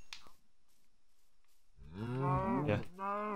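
A Minecraft cow lets out a single drawn-out moo in a desert area of the game, clear and fairly close, following a few quiet clicks.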